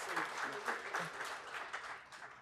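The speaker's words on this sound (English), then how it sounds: "Dr. Sarita Nagpal, a round of applause." Quiet, diffuse applause from a panel discussion audience on leadership and change management, greeting a panelist. A soft, continuous patter of many hands sits under faint voices and fades slightly toward the end.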